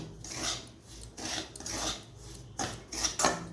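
Semolina roasting in ghee in a kadai over a low to medium flame, stirred with a spoon, giving soft rhythmic scraping and rasping sweeps at close range, repeated in slow strokes with short gaps.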